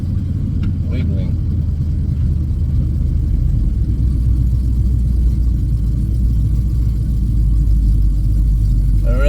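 A car rumbles steadily along a rough road, its low engine drone and body vibration continuous and close throughout, with a voice talking over it.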